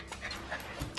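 A puppy pants softly in short, breathy bursts close by, quiet and brief, with no speech.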